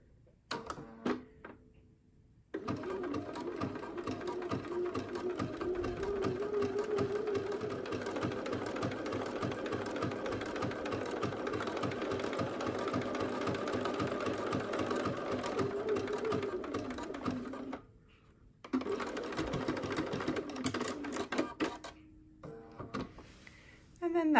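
A sewing machine runs a zigzag stitch across a quilt-as-you-go coaster, a close, even rapid mechanical chatter that holds steady for about fifteen seconds, stops briefly, then resumes.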